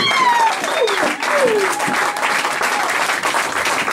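A church congregation at a Sunday praise service applauds loudly for God's glory, steady dense clapping with scattered voices and cheers rising over it.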